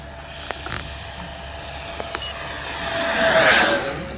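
An RC F-15 Eagle model jet with a 64mm electric ducted fan flies flat and level at full throttle. Its whine rises to a loud, high-pitched rush as it passes close, with a Doppler sweep.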